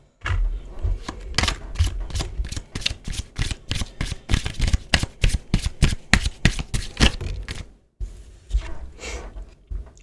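Love oracle cards shuffled by hand in a quick run of crisp riffling flicks, close and loud, a brief pause, then a few more shuffles.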